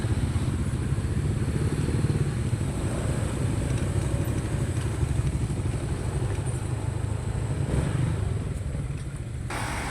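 Several motorcycles idle and rumble steadily close by on a narrow village road in Sitio Sampaloc, Subic, Zambales, a continuous engine drone with light clatter as riders pull in and park.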